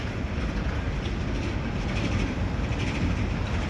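A southbound grain train rolls past, a steady, loud rumble of wheels and cars with faint clickety-clack, continuous and close, with no pauses.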